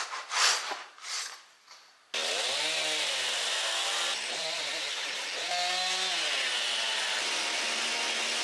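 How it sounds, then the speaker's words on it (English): A chainsaw roars steadily and loudly as it cuts through a wood slab at a sawmill, after a couple of seconds of softer rustling and handling noise, its pitch dipping briefly under load. "taking a chainsaw to it and cutting that first half of the slab off"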